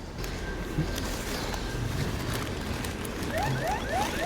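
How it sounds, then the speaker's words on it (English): An Engwe L20 3.0 Pro electric bike's rising electronic alarm chirps repeatedly over steady wind and road noise, its tones sweeping upward several times near the end. "Oh, the bike alarm's going off."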